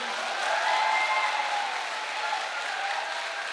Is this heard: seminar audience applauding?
yes